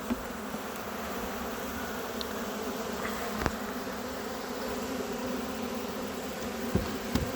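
A small honeybee swarm of roughly two or three frames hums in a steady, close, continuous drone while being hived, with a few faint knocks and no speech.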